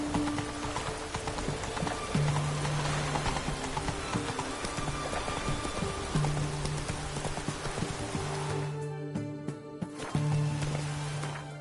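A horse gallops in Witcher 3, rhythmic hoofbeats clip-clopping steadily at close range, pausing briefly near the end before resuming, with no talking.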